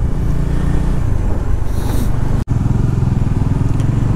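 A Bajaj Dominar motorcycle engine rumbles loudly and close, a rough continuous revving drone with a brief cutout midway before it picks up again.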